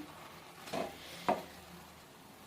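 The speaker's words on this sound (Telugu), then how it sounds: "బెల్లం కూడా బాగా కరిగేంత వరకు ఇలాగా కలియ పెడుతూ ఉందాము లేకుంటే కింద అంటుకుంటుంది" Jaggery is stirred into carrot halwa in a pan, giving soft scraping strokes at a slow, uneven pace over a faint background hiss.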